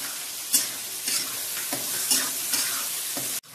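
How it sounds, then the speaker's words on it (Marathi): Chopped onion sautéing in hot oil with cumin for spicy pav bhaji, a steady close sizzle broken by several scraping stirs of the spatula. "तर आपण कांदा टाकून घेऊया आणि छान गुलाबी होईपर्यंत परतूया."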